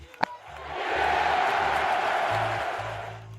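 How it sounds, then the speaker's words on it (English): A ski-jumping crowd erupts into loud, sustained cheering and roaring right after a competitor lands, the din swelling quickly after a sharp initial burst and holding steady throughout. "The crowd goes bananas. People are jumping up and down, waving anything they can find"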